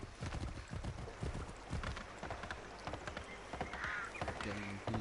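A horse gallops in the video game Assassin's Creed 3, rapid rhythmic hoofbeats drumming steadily with a brief whinny, while a voice talks over it.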